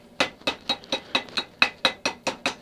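Steady hammer blows ring on metal worked over the horn of an anvil in a backyard blacksmith setting, about eleven sharp, evenly spaced strikes close by with bright metallic ring and no talk.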